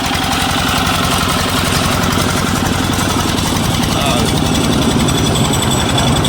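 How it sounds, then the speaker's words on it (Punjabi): A Peter engine mounted on a crop sprayer tank for spraying paddy runs steadily at a loud, constant chug with a knocking pulse throughout, close by. "ਹੋਏ ਚੱਲਦਾ ਪਿਆ ਪੀਟਰ ਇੰਜਨ"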